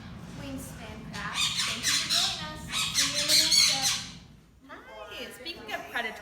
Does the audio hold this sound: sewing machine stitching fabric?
no